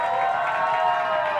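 An audience claps and cheers for a scholarship announcement at an education event, a dense, even wash of applause held at a steady level with a faint tonal ring running underneath.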